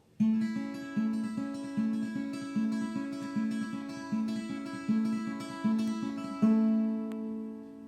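An acoustic guitar plays the intro of a song, a repeating pattern of picked notes in a steady rhythm, clear and close, the phrase cycling several times before a final ringing chord.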